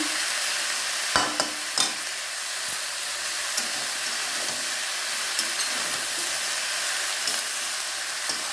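Tomato, green chili and potato stirred and frying in a pan, giving a steady close sizzle with occasional scraping clinks of a utensil, no talking.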